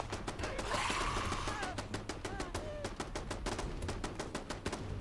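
Fallout 4 turret gunfire, a long run of fast, regular automatic shots at moderate loudness mixed with other game noise and a voice underneath.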